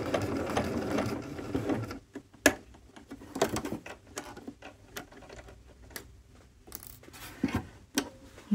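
Sewing machine stitching a polo shirt placket, fast rhythmic needle chatter in close bursts that stop and start, separated by pauses with clicks and fabric handling, no talking.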